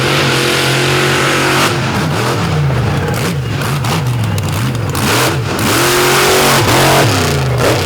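A Frontier Truck Parts Sinistar race truck at the 2023 Throwdown on the U.P. revs hard up close, its engine note climbing and dropping in repeated loud surges with no talk over it.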